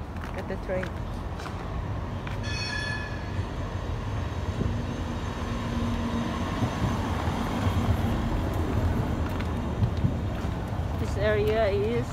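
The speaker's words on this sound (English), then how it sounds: "Look at the train." A train passes through São João Baptista in Portugal with a sustained low rumble and rolling noise, steady throughout. A short whistle-like tone sounds near the end, and people talk quietly in the background.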